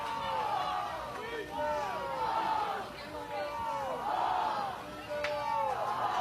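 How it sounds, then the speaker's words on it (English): Softball crowd at an Oklahoma at UCF college game chanting a player's name in a steady, repeated rhythmic cadence, loud and continuous over general stadium noise for several seconds. "Crowd chants Brito bomb, Brito bomb."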